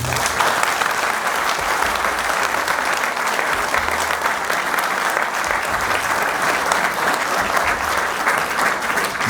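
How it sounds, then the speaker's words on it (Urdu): A large audience at an annual get-together in 2019 gives loud, continuous, dense applause that holds evenly for the whole stretch with no voices over it. "یہ آپ کی بھرپور تالیاں ایک بار بتائیں گے۔"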